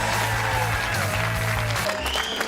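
A studio audience claps in an unusual pattern on a Sunday football panel show, a loud close patter of hands with rhythmic group beats, under music and a low hum.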